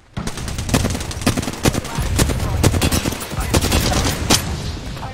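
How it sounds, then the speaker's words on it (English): Dense video-game gunfire, bursts of rapid automatic shots mixed with single cracks, loud and close, running steadily throughout with a low rumble underneath. "I'm taking fire."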